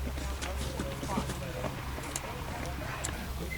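Horse hooves clop at a slow walking pace on firm ground, fairly close, while people talk over the steps, during a rehabilitation horse ride for war veterans in Vinnytsia.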